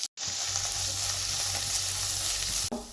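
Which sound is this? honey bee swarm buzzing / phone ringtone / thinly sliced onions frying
thinly sliced onions frying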